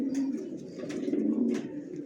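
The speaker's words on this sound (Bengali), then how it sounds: "দেখেন নটটা কিভাবে ডাকতেছে" A male original racer pigeon coos close by in a repeated low throaty rhythm over a short stretch, with faint light rustling around it.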